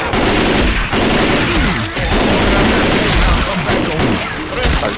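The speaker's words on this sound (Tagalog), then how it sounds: "Why the hell you guys keep shooting me?" Dense, loud gunfire from the Left 4 Dead 2 video game rattles almost without pause as rapid overlapping bursts, with players' voices faintly mixed in beneath the shooting.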